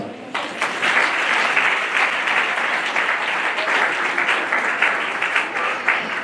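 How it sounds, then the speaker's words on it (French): Sustained audience applause at an excellence awards ceremony, loud and dense, many hands clapping steadily throughout without a break. "Je voudrais donc qu'on les acclame pour ce beau travail."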